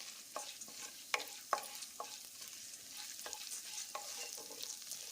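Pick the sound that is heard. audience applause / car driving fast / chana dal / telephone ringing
chana dal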